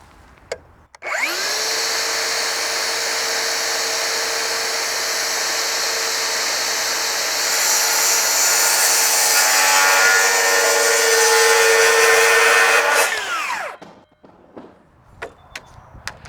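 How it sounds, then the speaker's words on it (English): A power saw cuts off the ends of deck joists to a straight line for a rim joist on a Trex deck build, one long loud continuous whine of about twelve seconds, close and alone, then stopping. "we're going to go along and cut every one of these off so we have a perfectly straight edge for our rim joist"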